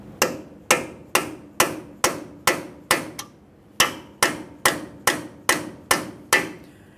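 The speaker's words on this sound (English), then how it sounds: "we'll continue on with a hammer and punch. The punch is going to go directly in the center of your axle shaft." Hammer striking a punch set against the center of a CV axle shaft on a 2015-2020 Ford F-150 3.5L V6, about fourteen sharp metallic taps in a steady rhythm with one brief pause, loud and close, no talking.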